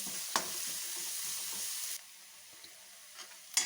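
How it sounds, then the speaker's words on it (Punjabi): Finely chopped onion frying in a pan, a bright close sizzle with stirring scrapes and clicks, dropping to a quieter hiss partway through. "ਪਿਆਜ਼ ਨੂੰ ਵੀ ਹਲਕਾ ਜਿਹਾ ਪਕਾ ਲਾਂਗੇ 1 ਮਿੰਟ ਦੇ ਕਰੀਬ ਇਹਨੂੰ ਵੀ ਪਕਾ ਲਾਂਗੇ"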